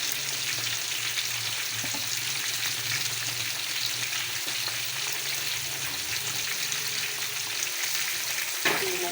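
Fish frying on a tawa with crushed chilli, a dense continuous sizzle with a low hum underneath and a single brief knock near the end.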